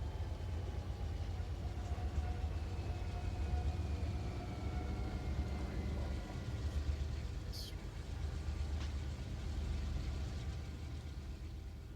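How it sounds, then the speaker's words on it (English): A train driven by another player rolls through the Bakersfield area in the Run8 train simulator, a steady low rumble with a faint rising whine and brief squeal, continuous and moderately close throughout. "That's a train being driven by another player."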